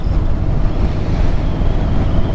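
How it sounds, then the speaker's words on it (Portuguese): Steady roaring wind buffeting the microphone while someone rides a motorcycle along an open road, a constant loud low rumble with no voices. "estou pilotando minha moto"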